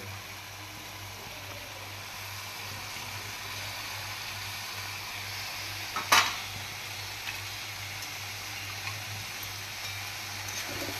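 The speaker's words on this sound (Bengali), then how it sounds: "এবার দিয়ে দেবো কচুরলতি সেদ্ধ করে রাখা এবং ছোলা আর ছোলার ডাল সেদ্ধ করে রাখা উপকরণগুলো" Boiled taro stolons, chickpeas and split chickpeas are tipped into a pan of sautéed spices, making a steady, moderate sizzle with one sharp utensil clatter partway through, with no talking.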